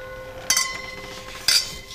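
Wine glasses clinking together in a toast at a wine tasting in Napa Valley, two bright, ringing chimes about a second apart, each fading quickly, with no talk over them.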